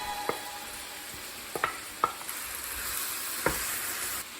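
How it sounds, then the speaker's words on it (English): Prawns are stirred into seasoned vegetables frying in a pan for Chinese fried rice, with a faint steady sizzle and a few sharp clicks of a utensil against the pan, quiet and with no talk. "Next, add the prawns."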